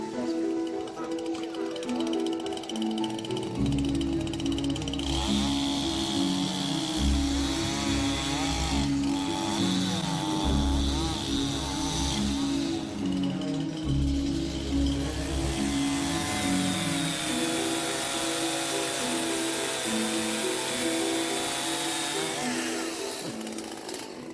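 A chainsaw runs loudly and steadily during work at a cemetery reconstruction in Ostrówek, its engine note rising and falling as it cuts, with music playing underneath.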